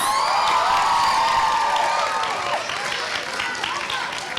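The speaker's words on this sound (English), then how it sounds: "Give Group 1 another big round of applause." An audience at a summer camp finale claps and cheers loudly, with whoops and children's shouts over a dense wash of applause that stays strong throughout and eases slightly toward the end.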